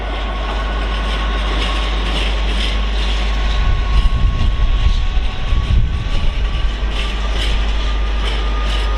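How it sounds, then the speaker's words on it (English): Class 66 freight train on the East Coast Main Line near Doncaster, a loud, steady diesel rumble with wagon clatter that swells in the middle as the train passes. "There's another freight 66 coming in soon as well, that I can see"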